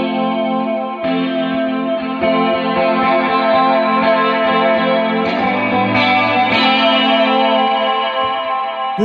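A sustained synth or instrument tone runs through a tape-station plugin with heavy compression and saturation, loud and dense with a slight wobble, held chords shifting steadily, with no voices.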